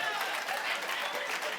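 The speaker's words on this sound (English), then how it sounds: "Clap for me, clap for me." A church congregation breaks into brief, dense clapping at a steady level during a sermon, with no voice rising above it.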